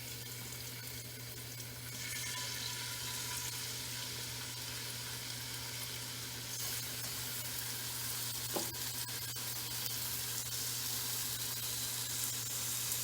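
Chicken fries in a hot pan, giving a continuous soft sizzle with a steady low hum beneath it. The frying grows a little louder after the first couple of seconds, and one brief clink sounds near the end.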